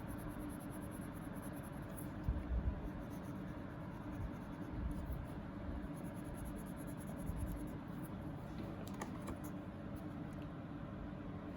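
Japanese vegetable crayons are pressed hard and rubbed across paper in a steady, close, grainy scratching that continues for several seconds over a broad noisy background, with no voices.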